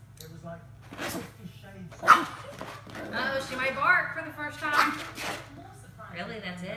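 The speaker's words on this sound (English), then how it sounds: "she might bark for the first time" A small dog lets out a few high, sharp yips and barks, close by, mixed with people talking quietly around it.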